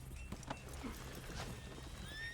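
A horse in Red Dead Redemption 2 clip-clops at a gallop with a brief whinny, the hoofbeats faint and somewhat distant beneath a soft game soundscape.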